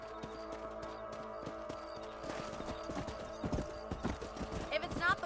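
Horse hooves clip-clop at a steady gait in the video game Red Dead Redemption, joined by a whinny, with game music and voices underneath.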